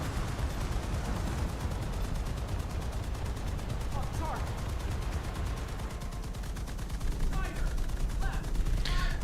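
Artillery strike in a naval battle video game: a continuous rolling barrage of distant gunfire and booming shell impacts, steady and dense throughout, with a few sharper crackles near the end.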